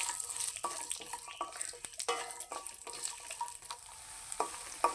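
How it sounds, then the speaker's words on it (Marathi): Cashews and other dry fruits fry in ghee while being stirred, giving a soft, quiet sizzle with scattered light scraping and clicking against the pan. "आता ह्या उरलेल्या तुपा काजू आपले जे फ्रूट्स आहेत ते सर्व आपण मस्तपैकी तुपावर तळून घेणार आहोत"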